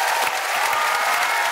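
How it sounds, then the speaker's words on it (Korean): Audience members at a Korean sketch comedy stage show clap for two volunteers called up front, a full, continuous round of applause at close range with steady intensity and no talking over it. "앞으로 나와 박수 한번 줘."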